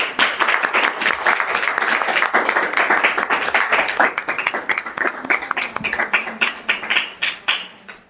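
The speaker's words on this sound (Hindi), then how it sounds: "चलिए ताली बजा दीजिए।" A quiz-competition audience gives a round of applause for a contestant who passed. The clapping is brisk and sustained, then thins into scattered, fading claps toward the end.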